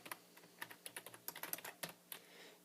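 Typing on a computer keyboard, a quiet, close run of quick uneven key clicks with small pauses, heard alone.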